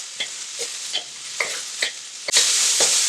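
Onions stir-fry in a wok as they cook toward translucent, with a loud continuous sizzle and rhythmic scraping stirs about every half second, close up, the hiss surging louder near the end.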